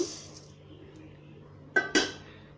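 Black urad dal is dropped into a pan on the stove for dry roasting, giving two short rattling clatters close by, with a faint steady hum underneath.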